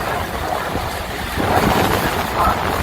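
Niagara Falls tour boat powered by twin diesel engines, heading up the river toward Horseshoe Falls; a steady, loud, close rush of water and wind noise with a low rumble beneath, no voices.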